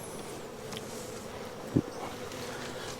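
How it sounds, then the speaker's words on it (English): A soft, steady buzz of a honeybee swarm, many bees humming together, continues throughout at low volume, with a brief thump partway through. "What's all these bees right here?"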